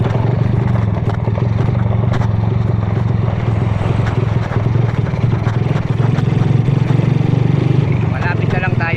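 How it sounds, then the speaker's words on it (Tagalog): A motorcycle engine running rough close by, with an uneven, sputtering idle and rattling clatter throughout, steady and loud. "Iba na kasi yung tunog ng motor ko guys"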